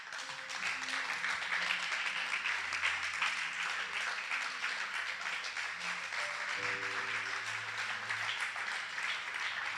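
A church congregation applauding in acclaim of the Lord, heard as a steady, dense wash of clapping that runs through the whole stretch at an even level. Low sustained tones, probably an organ or keyboard, sound faintly beneath it.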